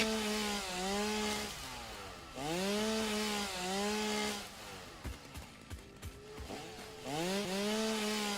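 Chainsaw in the video game Satisfactory trimming back foliage, a loud revving motor whine that rises and falls in repeated bursts, briefly dropping to choppy sputters between cuts.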